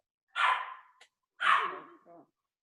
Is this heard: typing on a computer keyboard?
no